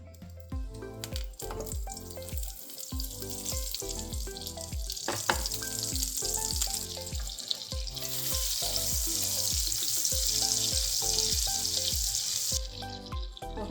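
Ghee and a cube of butter sizzle and fry steadily in a pan, a continuous crackling hiss under a faint rhythmic background beat, growing slightly brighter toward the end.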